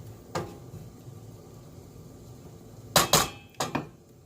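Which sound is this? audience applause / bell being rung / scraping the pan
scraping the pan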